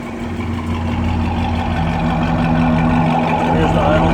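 A Paxton-supercharged Dodge Challenger making about 550 horsepower idles with a full exhaust, a loud, close, deep and steady rumble that holds evenly throughout.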